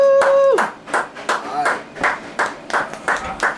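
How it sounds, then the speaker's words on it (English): People clapping out in a lobby during an event honoring a high school football coach, heard as a short, uneven run of hand claps at moderate distance, with a voice speaking over the start. "They're clapping in the lobby out there."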